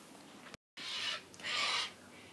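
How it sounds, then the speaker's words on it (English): Birds call outside in two loud, drawn-out bursts, heard alone after a brief cut to silence. "Crazy birds outside."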